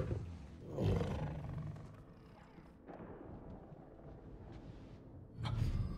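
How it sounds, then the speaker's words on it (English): A tiger roaring in the Marvel's Spider-Man 2 video game, a close, heavy roar at the start followed by a rumbling lull and then a second powerful roar at the end, with no talking. "So Craven has a pet tiger."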